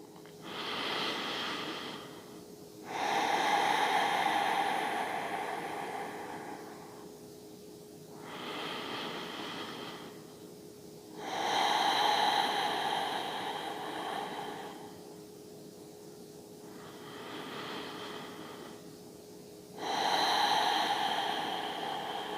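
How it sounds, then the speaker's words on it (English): Slow Ujjayi breathing from prenatal yoga repeats as long, soft oceanic hisses, each breath swelling and fading in an even rhythm, close and alone without talk. "Starting to create that Ujjayi breath."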